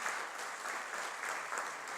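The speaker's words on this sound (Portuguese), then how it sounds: "Peço a salva de palmas para o Luiz César Bueno." Steady applause fills a formal session marking Industry Day as an audience claps for Luiz César Bueno, a dense, even wash of clapping from many hands that carries on at constant strength from start to end.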